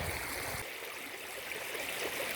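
Water rushes steadily over a gold prospecting sluice, rinsing away the tailings in a continuous, fairly faint stream that carries no talk.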